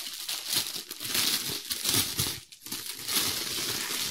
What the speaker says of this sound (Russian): давайте посмотрим упаковку. Так, откроем.